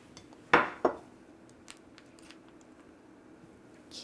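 A knife cuts through vegan, gluten-free yellow sheet cake on a plate, giving two sharp clinks close together near the start and then only faint scattered taps and quiet handling in a still kitchen.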